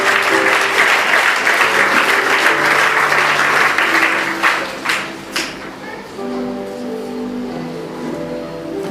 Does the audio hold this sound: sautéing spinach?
no